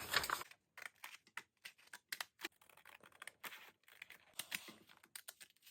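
Scissors cutting paper to make a flip flap book, a quiet, uneven series of close snips and crisp paper rustles with short pauses between cuts.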